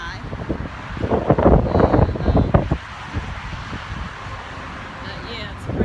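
Gusty wind buffets the microphone with low rumbling bursts for a few seconds, then eases to a quieter steady outdoor rush.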